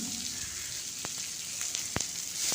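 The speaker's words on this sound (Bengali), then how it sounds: "পেঁয়াজটাকে খুব বেশি নরম করে ভাজবো না একটু নরম হলেই" Finely chopped onion softens in a pan, giving a steady, quiet hiss of frying with a few sharp pops and crackles.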